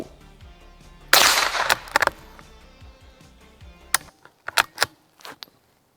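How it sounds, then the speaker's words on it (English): Sharp cracks of a Savage Mark II .22 rifle firing Mini-Mag ammunition, several separate shots spaced irregularly, loud and close, with quiet gaps between and a few lighter clicks toward the end. "let's go ahead and give her another shot with these mini mags here"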